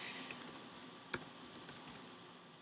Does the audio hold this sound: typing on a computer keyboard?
yes